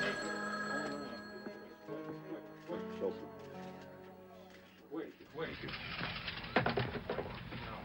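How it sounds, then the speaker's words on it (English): A telephone bell rings in a press room, repeated trilling rings at moderate level running through the first half, followed by clattering and noisy background activity. "In the press room, a telephone rang."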